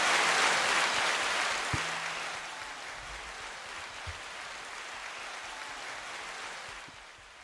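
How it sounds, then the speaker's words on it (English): Podcast hosts clap in a studio, a steady broadband patter of hands held for several seconds, close and fairly loud, fading near the end with a few small knocks underneath. "Still clapping."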